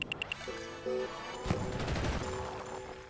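Rapid gunfire from the dome's weapon in the game Dome Keeper, fast repeated shots layered over tonal game sounds and electronic beeps, steady and moderately loud throughout.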